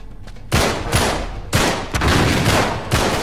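Shotgun blasts in the video game Uncharted 3: four loud, broadband booming shots at irregular intervals, each with a sharp attack and a lingering reverberant tail over a constant backdrop of battle noise.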